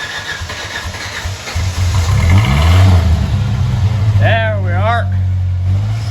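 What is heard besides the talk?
Ford Foxbody Mustang engine starting up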